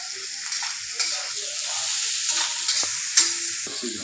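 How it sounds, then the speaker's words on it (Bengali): Cabbage and carrot stir-frying in a pan for veg chowmein: a soft continuous sizzle broken by spatula scrapes and a sharp clack near the end, close and moderate in level. "তারপরে বাঁধাকপি ও গাজরটাকে দিয়ে তার সঙ্গে একই সঙ্গে তো হালকা ফ্রাই করে নিচ্ছি"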